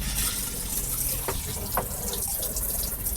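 Water sprays steadily from the shower head in a Thor Compass RV, a continuous hiss with brief clunks as it runs.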